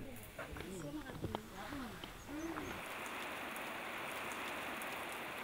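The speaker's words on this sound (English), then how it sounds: "it rains a few times a day, so most of the time they just shelter under the roofs and wait for the rain to stop" Heavy rain falls in the mountains of Vanuatu as a steady, dense hiss that takes over after a voice trails off, continuing evenly and loudly to the end.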